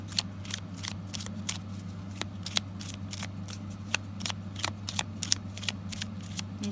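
A stack of tarot cards being shuffled in a steady run of sharp, close slaps and flicks over a constant low electrical hum, with no talking.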